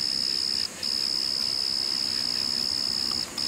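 Evening insects near a Route 66 motel in Missouri, a steady high, continuous chirring drone with two brief dropouts, loud and close, with no voices.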